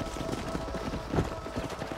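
Horse hooves clip-clop in the video game Red Dead Redemption, a quick muffled patter of steps heard close over game background noise.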